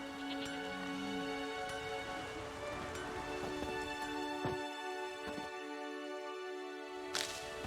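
Rain falling in the video game The Witcher 3, a soft steady patter on surfaces under a quiet tonal game ambience, low in level with a few sharper drip-like ticks.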